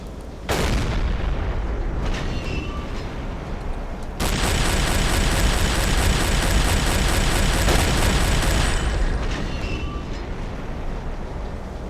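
A U-boat deck gun in Silent Hunter 3 shells a burning ship, heavy booming reports landing on a constant rumbling roar, with a sharp blast near the start and another around four seconds in.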